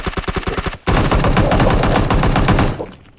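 Rapid automatic gunfire in PUBG Mobile on the Miramar map, loud and close: a short burst of shots, a brief gap, then a long sustained stream of rattling fire that cuts off, with no speech.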